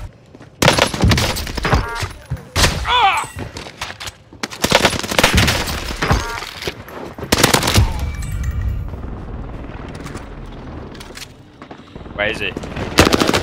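Warzone video game gunfire: loud, close bursts of automatic fire and single shots come in clusters, separated by quieter gaps, while players talk excitedly over the shooting.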